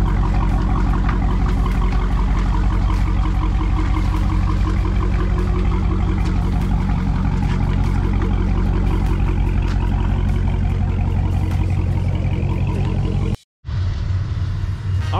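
A car drives on wet roads with worn tires, a steady loud engine drone and road rumble filling the cabin continuously before a brief cut near the end.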